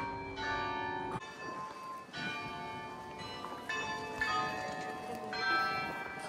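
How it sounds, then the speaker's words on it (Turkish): Church bells in Prague chime in a sequence of distinct strikes, forming a slow melodic pattern with long ringing decay, fairly distant. "Yani bir melodi şeklinde çalıyor galiba."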